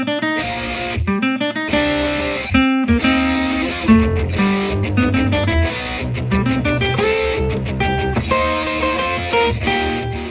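The intro from the video game Splatoon 3 plays as a full band arrangement with punchy staccato hits, brief stops and a driving bass line, loud and steady throughout with no voices.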